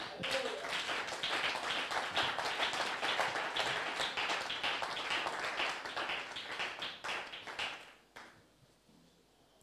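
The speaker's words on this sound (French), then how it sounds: "Donnez-moi une acclamation" Congregation at a French-language church service clapping and cheering, a dense sustained burst of many hands close by that thins and fades out near the end.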